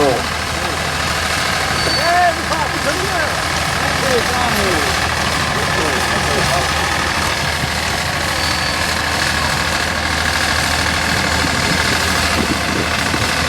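A 1953 Deutz diesel tractor engine runs steadily at a tractor pull, a continuous loud low rumble that holds through the whole stretch, with a crowd's voices and talk mixed over it.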